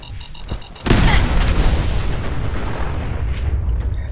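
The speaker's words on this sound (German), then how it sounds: "Da geht gleich wieder LKW in die Luft." A truck blows up in the video game Fallout 4: after a short stretch of quiet game sounds, a sudden loud boom hits and rolls on into a long, rumbling blast that slowly fades.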